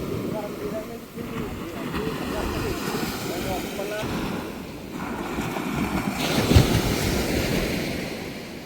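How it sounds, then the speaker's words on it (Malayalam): Sea surf rolls steadily near the shore while a rowing boat is paddled in, a continuous broad wash of breaking waves with a slight swell toward the end and faint voices in the background. "തിരമാല ഒന്ന് കുറഞ്ഞിട്ടുണ്ട്"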